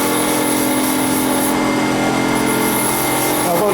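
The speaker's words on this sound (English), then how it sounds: "So I'm grinding it down until there's no crack visible or chip visible" A grinding wheel sharpens a small twist drill bit, making a loud, continuous high-pitched whir and grinding hiss that stays steady and close.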